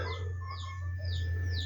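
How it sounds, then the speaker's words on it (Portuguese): Chickens and a rooster clucking and calling outdoors on a home veranda, with soft repeated bird calls over a steady low hum. "Vocês vão escutar o galo cantando, a Angola gritando, galinha cantando."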